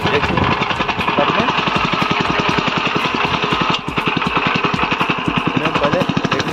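A mini rotavator tractor engine runs after starting, a loud, close, steady rapid chugging throb with a voice talking over it.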